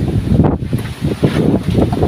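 Strong wind on a mountainside roars and buffets against the microphone in steady gusts, a dense rumbling rush with no voices.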